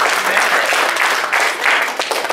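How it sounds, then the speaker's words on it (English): Church congregation applauding during a sermon, a short burst of steady, fairly close clapping from a crowd. "Give that a round of applause."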